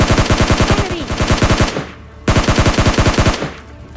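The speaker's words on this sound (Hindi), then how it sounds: "सामने की तरफ से किसी ने हमारे ऊपर फायर किया था" Automatic gunfire in the mobile shooter game PUBG Mobile Lite rings out in two loud, rapid bursts of closely spaced shots, each ending with a short echoing tail before the next volley.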